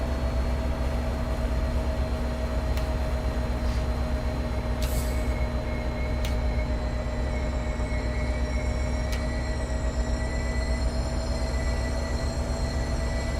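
Passenger train pulling into a station in the game Train Sim World 6: a steady low rumble with constant hum and tonal whine, plus a few brief sharp clicks and hiss near the middle.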